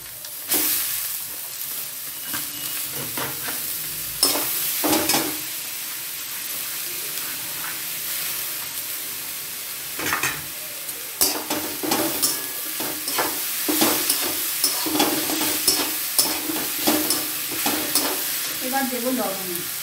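Banana flower (mocha) stir-fried in a pan with ground cumin, a steady loud sizzle broken by repeated scraping stirs of the spatula, no talking.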